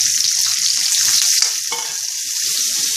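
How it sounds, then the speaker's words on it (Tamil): Small onions frying in hot oil in a pan, a loud, steady close sizzle and crackle with a faint stirring scrape midway, continuous throughout with no talk. "இப்போ எண்ணெய் காஞ்சிருத்து நம்ம சின்ன வெங்காயத்தை வச்சுக்கலாம்"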